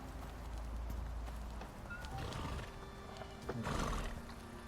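Horse neighing with clip-clopping hooves in the survival game Icarus, a tamed horse set to follow, moderately loud with several neigh bursts over steady ambient game sound.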